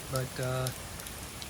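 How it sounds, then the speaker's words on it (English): Heavy rain pours down in Kyoto in the morning, a steady hiss of falling water heard beneath a brief spoken word. "It's pouring down rain in Kyoto."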